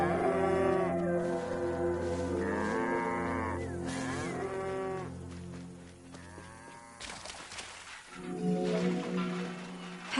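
Cattle low in a long series of deep, drawn-out moos, several overlapping bellows rising and falling over steady game ambience in ancient Egypt in Assassin's Creed Origins.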